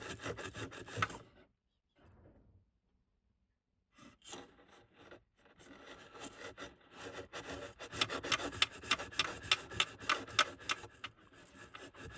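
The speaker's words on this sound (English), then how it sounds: "my steel wool and clean that off a little bit" Steel wool scrubbing a metal part of a Pacesetter XL731 sewing machine, a dry rasping rub that comes in bursts, pauses briefly, then grows into steady, louder repeated strokes close by.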